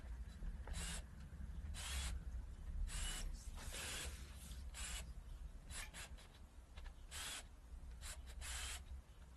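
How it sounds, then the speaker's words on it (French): Spokes on a DT Swiss EX511 enduro/DH mountain bike wheel are loosened with a screwdriver: repeated short scraping and clicking bursts, faint and close, with quiet gaps between them and no talk. "je détends bien tous les rayons comme ça"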